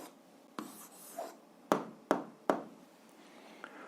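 Pen writing down an algebra answer on paper, a handful of short scratchy strokes and taps close by, with several sharper tapping marks clustered in the middle, fairly quiet overall.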